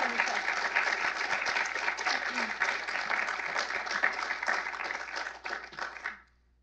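A conference audience applauds as the speakers are welcomed, dense steady clapping filling the room for several seconds before thinning out and stopping.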